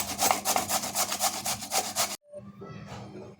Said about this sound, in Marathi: अशा पद्धतीने सगळा भोपळा आपण किसून घेऊयात